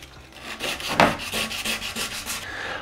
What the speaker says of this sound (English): when you sand these areas and the carbon fiber